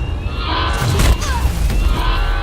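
Explosion in the video game Alien Isolation, a loud booming blast with crashing, rumbling debris and shatter-like crackle lasting about a second, then a fading roar.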